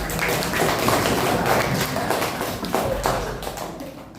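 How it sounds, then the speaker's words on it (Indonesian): Students clapping in a classroom after a question about paying zakat fitrah, a dense run of hand claps filling the room at steady loudness, close by, with no talk over it. "kita tepuk tangan dulu buat kalian"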